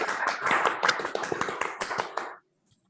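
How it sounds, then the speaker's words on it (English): An online audience applauds after a talk with a burst of unmuted clapping: many overlapping close hand claps for about two seconds, then they stop abruptly. "let's unmute ourselves briefly and applaud for Giga"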